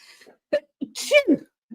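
A single close sneeze bursts out sharply in an otherwise quiet room, with a short breathy lead-in and nothing after it.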